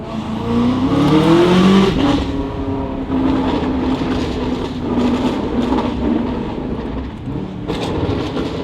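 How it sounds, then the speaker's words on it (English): A BMW G90 M5 with a Valvetronic Designs exhaust accelerates then lifts off, exhaust burbling and crackling on overrun, heard loud from inside with windows down, a steady engine drone and road noise. "windows down so you guys can hear a little bit of the overrun"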